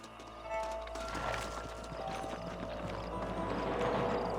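Hooves clip-clop on the ground as horses move and come to a halt in the Western video game Red Dead Redemption, steady and moderately close over a low background hum.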